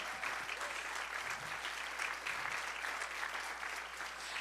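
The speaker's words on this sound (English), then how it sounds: "Give a round of applause to the Lord." A church audience applauds the Lord during a deliverance service, a dense, steady wash of clapping from many hands that holds evenly throughout.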